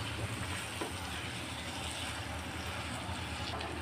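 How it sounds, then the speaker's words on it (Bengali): Fried eggs being sautéed and stirred in a spice masala for egg bhuna, giving a steady, close sizzle with broadband frying hiss and faint scraping throughout, with no talk. "এখন ডিমটা কিছুক্ষণ এভাবে কষিয়ে নেব নেড়ে চেড়ে।"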